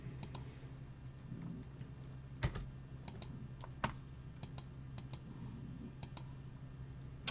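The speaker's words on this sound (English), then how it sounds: "we're going to click 9 times on this one" Sharp, close computer mouse clicks on a randomizer, coming singly and in quick pairs over several seconds against a quiet room hum, with no one talking.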